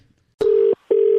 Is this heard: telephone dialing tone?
yes